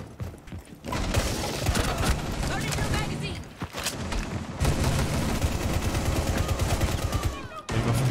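Rapid bursts of automatic gunfire in the video game Rainbow Six Siege, loud and dense, broken by brief pauses, with a player talking at times over the shots.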